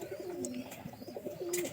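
Domestic pigeons coo in a low, throaty rhythm, several repeated phrases close to the microphone, with faint chirps and background noise around them.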